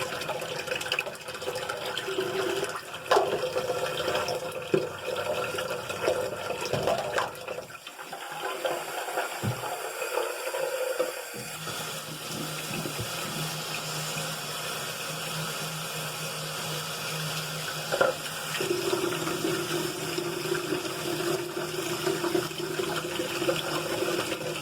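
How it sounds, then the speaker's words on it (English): A bathroom tap left running, a steady rushing water flow that continues through the whole stretch at moderate level, with a few brief knocks and handling sounds and a short quieter dip partway. "He's got the water running, so you can hear that"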